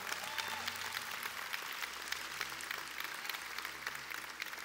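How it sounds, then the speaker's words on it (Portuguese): An audience at a Portuguese-language church sermon applauds steadily, a dense, even clapping that fills the room at moderate distance and continues without pause, with no speech over it. "Pode aplaudir Jesus"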